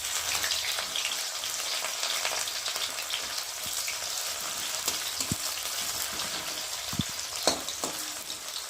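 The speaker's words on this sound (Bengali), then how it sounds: "এখন আমি ফোড়নে দিয়ে দেবো পেঁয়াজ। তেলটা খুবই গরম হয়ে গেছে।" Onion sizzles loudly in very hot oil in a kadai, a dense, steady crackle close by with occasional sharper pops and light stirring scrapes, no voices over it.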